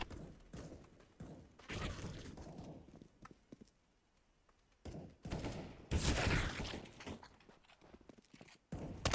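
Bursts of gunfire from the video game CS:GO come in short clusters separated by quieter gaps, with dense rapid shots near the middle and end, loud and close.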